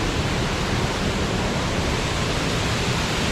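A large waterfall makes a steady, dense roar of rushing water. The broad wash of sound is close and unbroken, with no voices over it.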